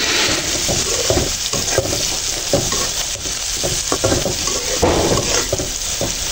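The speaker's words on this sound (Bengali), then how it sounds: "মাংসের জন্য আমি পেঁয়াজ ভাজতেছিলাম" Onions sizzle and crackle steadily in a hot pan for a meat dish, with a spatula scraping and stirring through the frying, close and fairly loud.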